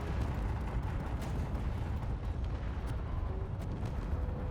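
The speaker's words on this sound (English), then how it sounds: "We are hitting with missile launchers now." Missile launcher impacts and explosions in Space Engineers during a shielded ship battle, a steady dense roar of distant blasts and rumbling fire, continuous and fairly faint with no clear gaps.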